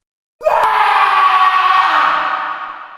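A man's terrified scream erupts suddenly and holds loud and raw for over two seconds, harsh and strained, slowly fading at the end; no other voices.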